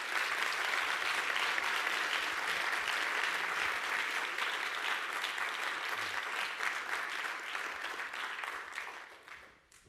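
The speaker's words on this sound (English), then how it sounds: "let's please honor our distinguished guest with applause" An audience at an event honoring guest Oscar López Rivera breaks into sustained, full applause, a thick continuous patter of many hands that stays loud for most of its length before tapering off at the end.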